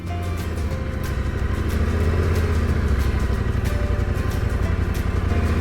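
A motorcycle creeps along at very slow speed under careful clutch and throttle control, its engine giving a steady, close, low throbbing rumble that barely changes throughout.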